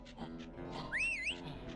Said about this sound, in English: Don't you whistle at me.